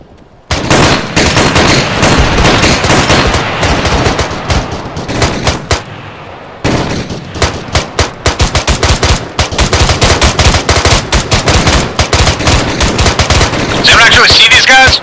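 Intense gunfire in the video game ArmA 3, loud sustained automatic bursts and shots crowding almost the whole stretch, with a short lull partway through and voices faintly mixed in.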